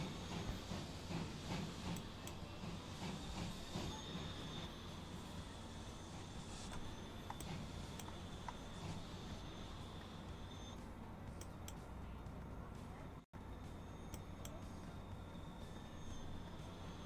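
A train rumbles along steadily on a South Coast line in Transport Fever 2, with continuous wheel and rail noise and faint squeals throughout, and no talking.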